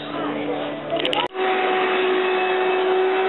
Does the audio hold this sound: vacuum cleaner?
yes